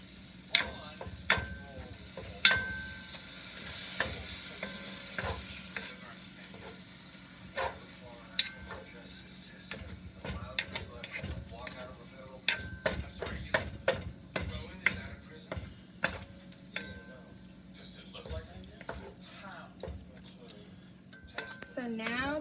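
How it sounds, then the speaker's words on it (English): Gluten-free seasoned turkey sausage browns in a pan with a quiet sizzle, while a utensil stirs and scrapes it in frequent clinking, tapping strokes against the pan; a voice talks at times underneath. "I'm gonna brown this, and this is the seasoning that I'm using."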